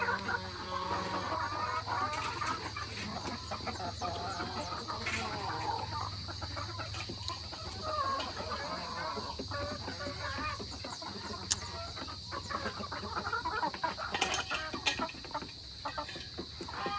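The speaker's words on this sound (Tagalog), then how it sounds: "Yan yung mga manok." Chickens cluck intermittently at a farmyard coop, moderately close, mixed with other ambient farm noise and a steady high electrical whine, while people talk over them.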